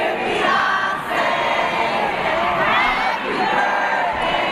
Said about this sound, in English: here is the crowd actually singing Happy Birthday